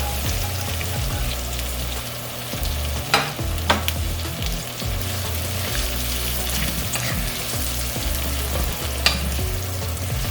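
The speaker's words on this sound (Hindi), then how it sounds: "इन्हें थोड़ी देर के लिए आपने फ्राई करना है, बहुत ज़्यादा देर के लिए नहीं करना।" Vegetables for chicken shashlik fry in a pan with a steady, close crackling sizzle, broken by a few sharper scrapes and pops as they are stirred.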